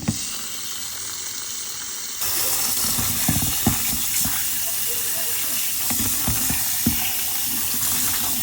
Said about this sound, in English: The water is draining down.